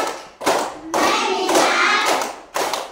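Rhythmic hand clapping in a classroom clap chant, bursts of claps separated by brief pauses, loud and close, with no voices over it.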